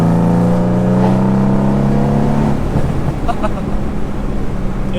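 A Mercedes C63s AMG turbocharged 510 hp engine and exhaust holds a loud, steady, deep drone, then drops away after about two and a half seconds into a broad rumble of road and wind noise.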